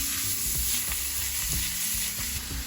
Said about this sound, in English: We're going to brown the meat.